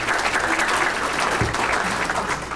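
Steady, dense applause from a dinner crowd at the East Alabama Chamber Dinner, continuous and fairly close throughout.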